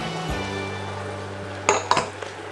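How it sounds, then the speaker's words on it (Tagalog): Ground pork with oyster sauce is stirred in a pan, a spoon clinking against the metal twice in quick succession over a low steady background hum. "Haluin lang natin."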